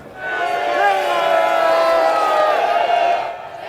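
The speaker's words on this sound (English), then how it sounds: "giving a lot of cheers, a lot of waves" A large crowd cheers and calls out at a massive anti-immigrant protest march in London led by Tommy Robinson, a dense, sustained roar of many voices that swells in and fades slightly toward the end.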